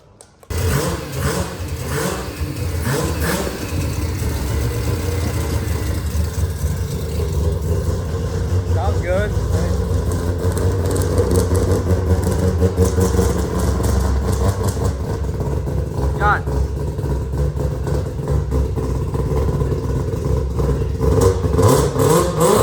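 A freshly built 20B three-rotor rotary engine in a Mazda RX-7 FD fires up for the first time and keeps running with rough, pulsing revs, loud and continuous throughout, with voices talking over it.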